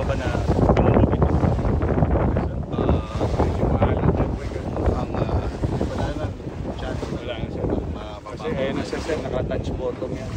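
A Philippine Coast Guard speedboat runs across open water in strong wind near a capsized dredger vessel, with engine roar, wind buffeting the microphone and splashing waves throughout, loud and steady.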